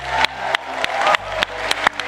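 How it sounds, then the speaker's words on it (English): Graduates applauding at a Stanford business school graduation ceremony: a loud, continuous crowd clapping, with a few sharp nearby claps standing out over a faint low hum. "It's time to give yourselves a massive round of applause."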